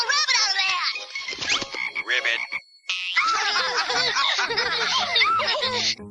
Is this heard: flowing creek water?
no